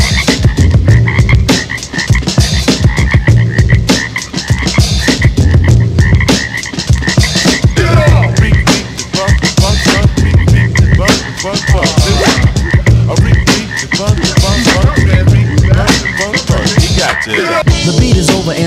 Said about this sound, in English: Still hear the frogs dancing in the street.